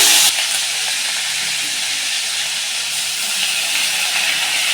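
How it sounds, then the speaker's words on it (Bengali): Whole garam masala and onion paste frying in hot oil, a loud, steady hiss and sizzle that starts abruptly and carries on evenly with no voices. "গরম তেলে গোটা গরম মশলা দিয়ে দিচ্ছি, দিয়ে দিলাম। এখানে পেঁয়াজ বাটা নিচ্ছি"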